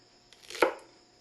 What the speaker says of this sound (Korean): 맵지 않은 오이고추를 짧게 썰어 씨를 파낸다.